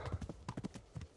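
Horse hooves clip-clop at a quick riding pace in the video game Kingdom Come: Deliverance, a rapid run of soft thuds, faint and steady.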